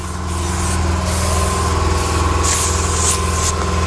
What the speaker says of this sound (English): I'm just going to spray it down with brake cleaner.